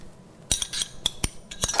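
Utensils tossing a Fattoush salad in a bowl, with a quick series of sharp clinks and scrapes of cutlery against dishware, close and irregular, without talk.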